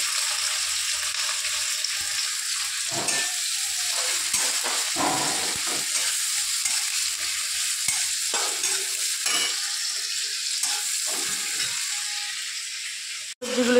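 Onions fry in a pan over earlier garlic tempering, a steady sizzle broken by repeated stirring scrapes and rattles of the utensil, ending with a sharp knock.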